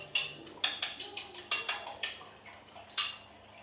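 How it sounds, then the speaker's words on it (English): A fork whisks an egg in a bowl for a scone glaze, making quick, faint, evenly paced metallic ticks close by, with a brief pause before one last tap. "Just give it a quick whisk with a fork."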